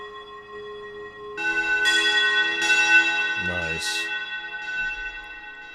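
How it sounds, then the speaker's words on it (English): A Distant Chimes synth preset on a Cherry Audio Chroma rings out in several bell-like struck tones with long shimmering decays, followed by a gliding tone; a voice comments briefly. "Distant chimes."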